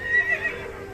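A horse gives a single loud, close whinny that rises and wavers for about a second over a steady background, with no talking.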